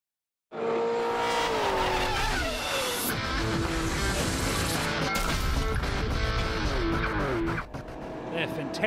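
V8 race cars, including a Ford Falcon, roar at full throttle at Manfeild circuit, engines loud and close with rising and falling revs as they race nose to tail, a commentator talking over the noise.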